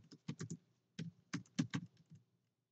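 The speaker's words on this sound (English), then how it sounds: "I know y'all can hear me typing" Keys clacking on a computer keyboard in quick bursts of several strokes with short pauses between, close and fairly quiet, with no voices.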